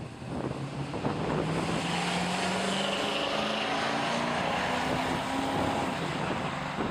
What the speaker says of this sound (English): Rick Spencer in his Trans Am takes on Dave Tanton in the Camaro